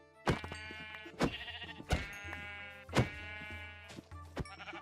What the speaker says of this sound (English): I should probably actually kill some sheep and make sure that I can make a bed for the road